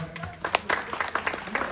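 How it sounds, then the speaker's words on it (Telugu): Audience clapping at an alumni reunion gathering: a sparse, uneven patter of hand claps from a modest crowd, individual sharp claps picking up over under two seconds. "అందుకోసం వాళ్ళకు చిన్న క్లాప్ కొడతారా"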